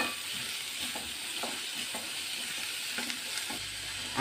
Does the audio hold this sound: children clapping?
no